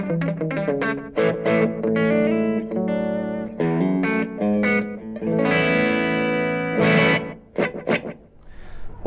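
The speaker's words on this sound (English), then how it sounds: "if you keep the time quite short, you can recreate some slapback style tones" Electric guitar through a Blackstar LT Echo 15 amp with a short slapback delay, playing loud, bright chordal and single-note phrases with quick doubled repeats and a slightly gritty edge, alone with no talking.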